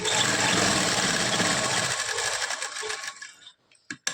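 Sewing machine stitching the lining belt of a salwar, a loud rapid mechanical whir that runs steadily, then slows and stops, followed by a few faint clicks.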